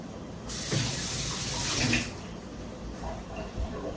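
A kitchen tap runs in a loud hissing gush for about a second and a half while hands are wetted, then shuts off, leaving faint handling noises and a small splash afterward.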